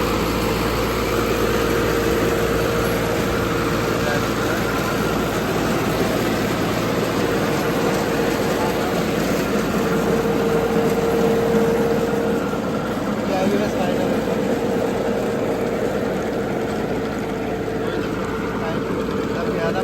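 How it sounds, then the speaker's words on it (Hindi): An excavator digging a drain runs its engine at full throttle, a loud, steady, close droning rumble that stays even throughout, with a voice talking over it. "उसमें चल रहा है एक्सीलेटर लेके फुल, कोई दिक्कत नहीं।"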